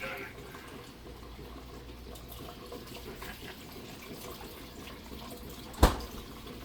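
A hand is rinsed under a running kitchen tap while making scrambled eggs, giving a steady, moderately quiet water hiss with one sharp click near the end.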